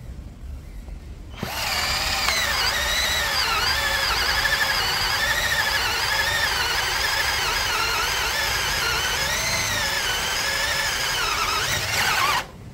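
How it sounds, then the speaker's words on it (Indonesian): NRT Pro DC320 cordless drill boring into meranti batu hardwood on speed setting 2, starting after a moment of quiet as a loud steady whine with wavering pitch as the bit bites, then stopping abruptly. "Berikutnya kita gunakan kayu keras, kayu meranti batu, masih menggunakan mata bor yang sama dan kecepatannya juga masih di nomor 2."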